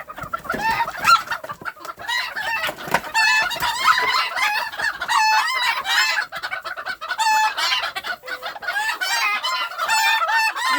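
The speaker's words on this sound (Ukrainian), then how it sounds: "Дивіться півничок" A bantam rooster crows loudly and repeatedly up close, with clucking from other chickens between the crows.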